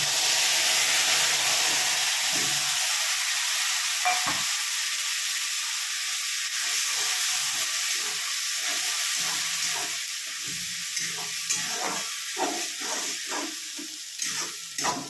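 A paste of onion, ginger, garlic and green chilli fries in oil with nigella seeds, hissing loudly at first and then settling into softer crackling as the spatula keeps scraping and stirring.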